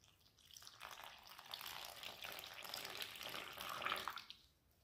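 Water poured into a well in salted flour while making crunchy yeast-free pizza dough, a steady splashing trickle heard close and fairly quiet, swelling slightly before tapering off near the end.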